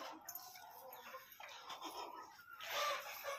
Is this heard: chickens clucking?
yes